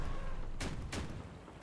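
Two sharp gunfire blasts about a third of a second apart ring out in the vehicle combat video game Crossout, over a dense, noisy background of game sound.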